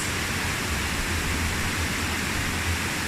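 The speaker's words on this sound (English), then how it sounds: "listen to the sound of the waterfall" A waterfall tumbling over rocks makes a loud, dense, unbroken rush of water, steady and close for the whole stretch, with no voices.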